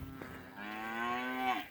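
A single cow moos, long and loud, close by on a cattle farm, with a rising then falling drawn-out call standing alone against quiet.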